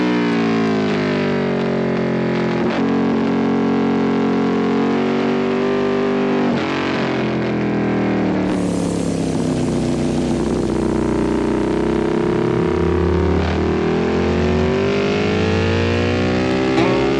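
A motorcycle engine on the Road Atlanta circuit during a novice trackday, revs rising and falling as the throttle is rolled on and off down the straight, loud and close with sweeping harmonic pitch changes.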